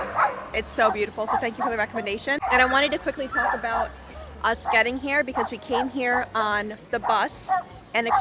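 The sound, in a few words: dog barking in the background in a park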